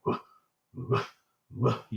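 A person imitates a dog barking outdoors in the woods: three loud, separate bark-like calls with short pauses between them.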